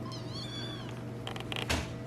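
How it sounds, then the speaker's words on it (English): About six-week-old kittens from two litters meow in a garden setting, a high rising cry followed by several shorter mews and a louder squeal near the end, close and clear. "She has all these cute little kittens, and they're all about 6 weeks old."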